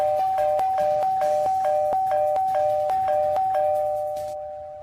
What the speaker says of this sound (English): They keep ringing my doorbell so aggressive.